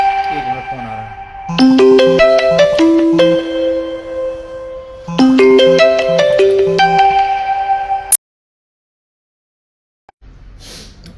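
Incoming call on a mobile phone, its musical ringtone repeating a bright melodic phrase twice, loud and close, before it cuts off abruptly; someone speaks faintly afterward.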